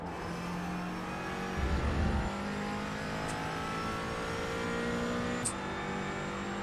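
Steady McLaren 570S GT4 race car engine drone in the iRacing game, with tonal harmonics, rising briefly in a louder rev midway, then settling into a sustained hum; a couple of faint high clicks.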